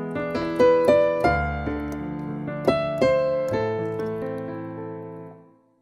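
A Cubase The Grand virtual piano with large-hall reverb plays a short phrase of struck notes, each ringing into a long, spacious tail that fades out at the end, with no voices.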